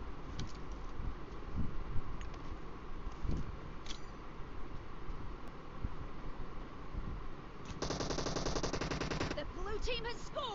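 Rifle fire in the mobile battle-royale game PUBG Mobile, including a Kar98: scattered single sharp shots over constant game noise, then a dense rapid burst of fire lasting over a second near the end.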